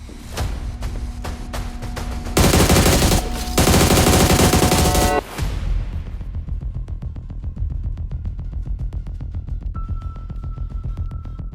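Rapid bursts of automatic gunfire crackle in a game firefight, with dense loud volleys early on giving way to steadier rattling shots and a faint tone.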